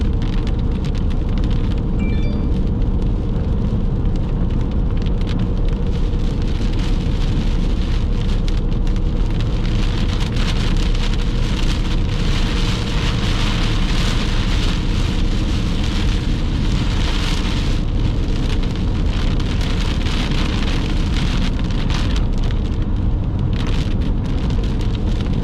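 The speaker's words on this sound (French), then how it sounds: "Les rideaux de pluie." Heavy rain pours in a dense, unbroken roar during a summer thunderstorm, steady and loud throughout with no voices.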